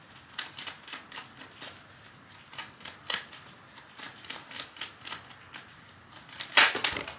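Tarot cards are shuffled in a quick, papery riffle of soft flicks close to the mic, ending in a brief louder clatter as cards spill, with no talk.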